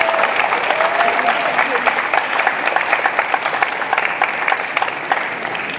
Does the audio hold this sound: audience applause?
yes